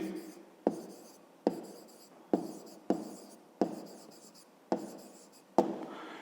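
Pen writing an answer during a fifth-grade maths exercise: a steady series of about eight short, distinct scratching strokes, each starting sharply and fading, close and fairly quiet.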